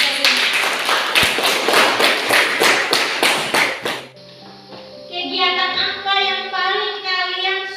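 A school class claps in unison, each loud rhythmic clap close together for about four seconds, then stops; after that, bright sustained tones follow, sounding like music or a sung jingle.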